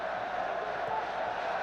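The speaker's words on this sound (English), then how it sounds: "And the cheers going up from the crowd for every completed pass" Broad stadium crowd noise at a football match between FC Barcelona and SC Internacional, a steady distant roar of cheering and murmur from the stands with commentary speech faintly mixed in.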